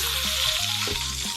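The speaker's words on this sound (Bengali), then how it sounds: "আলু দিয়ে দিলাম তেলের মধ্যে।" Potatoes dropped into hot oil in which papaya was just fried, a loud continuous sizzle and crackle close up with no talking.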